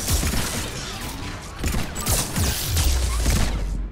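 Rapid bursts of turret fire in the Mass Effect 3 shooter, a loud clattering barrage of overlapping shots and impacts with heavy low thuds building toward the end, no talking.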